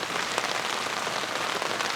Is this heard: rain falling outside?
yes